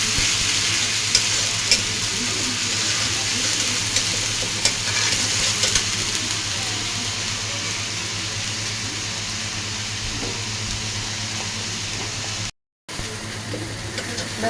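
Ginger and garlic frying in a pan for a cauliflower curry, a dense, even sizzle with faint stirring scrapes running close and steady, briefly cutting out near the end.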